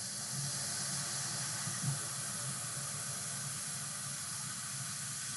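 Vinegar poured onto baking soda in a household drain, giving a steady close fizzing hiss that carries on evenly without a break.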